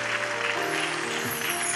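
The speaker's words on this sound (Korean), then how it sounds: "선교사님께 격려와 감사의 박수 하도록 하겠습니다." A church congregation applauds a visiting missionary after a prayer in a worship service, a steady, even wash of clapping from many hands with no voices over it.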